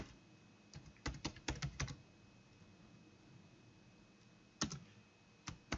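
Typing on a computer keyboard while entering a chart title in Excel: a quick cluster of close, crisp key clicks, a pause, then a few more scattered taps over a quiet background.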